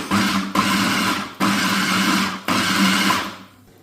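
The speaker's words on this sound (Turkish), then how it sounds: "Tüm malzemeleri blenderdan geçiriyoruz." A blender whirs loudly in three long bursts blending a Caesar salad sauce, each cut off by a brief pause, before winding down at the end.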